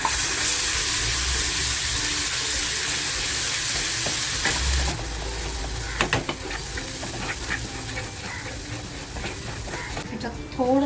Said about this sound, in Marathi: त्याच्यामध्ये थोडी हळद टाकते आणि जो मसाला वाटून घेतला आहे ना तो मसाला तेलामध्ये टाकते